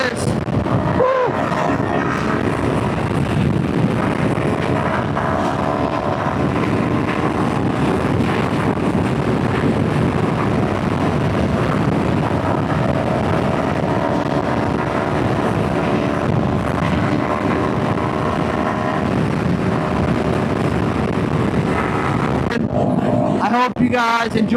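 A Kawasaki Ninja 500 motorcycle with an upgraded chain and sprocket riding on the highway, steady loud engine drone and wind roar throughout, with a rider's voice over it.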